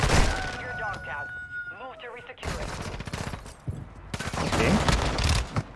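Gunfire in the video game Call of Duty Warzone, dense bursts of rapid shots in two clusters, loud and close, with people talking over the start.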